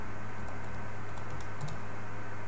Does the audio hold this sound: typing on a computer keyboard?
yes